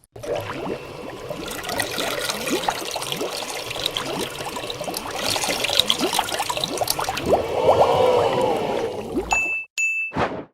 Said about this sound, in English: Let's see how it sucks up water.